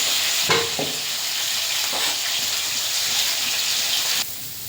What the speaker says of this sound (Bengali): মাছগুলো ভেজে নেব, বেগুনটা ভেজে নেব।